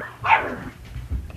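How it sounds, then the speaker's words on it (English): A single sharp dog bark rings out close by, followed by quiet background rustle. "Freaking thing barks louder than anybody I've ever heard."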